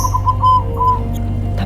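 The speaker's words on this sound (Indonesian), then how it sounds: "Nggak biasanya burung perkutut malam-malam begini mau bunyi" A zebra dove (perkutut) coos at night from a cage left outdoors, making clear, steady whistled tones in a short repeated phrase, moderately close over a low steady hum.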